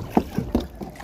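A kayak paddle dips into open water near an island on a spearfishing trip: four soft, evenly spaced splashing strokes, close by, over a low wind rumble.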